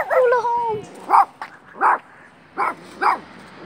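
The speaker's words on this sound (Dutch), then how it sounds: "Oh, coole hond! Coole hond!" A dog at an outdoor skatepark gives a whining yelp followed by four separate sharp barks spaced about half a second apart, loud and near.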